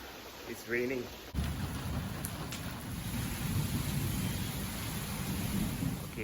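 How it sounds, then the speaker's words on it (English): Rain pours steadily on an outdoor building site during a thunderstorm, a dense continuous hiss and patter starting abruptly after a brief spoken moment and carrying on loudly to the end. "it's raining."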